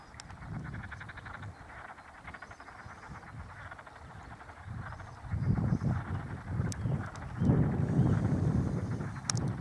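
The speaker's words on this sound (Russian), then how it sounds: "Вот и начались лягушачьи песни. Это значит, у них начался брачный период." Chorus of frogs croaking in mating season by a small clear river, a dense pulsing crackle that grows louder midway, with light wind noise and no voices.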